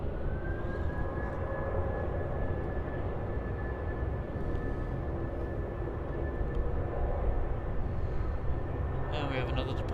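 A jet airliner departs Melbourne Airport, its engine roar a broad, steady rumble with a sustained whine, heard from a distance and holding level throughout while people talk over it.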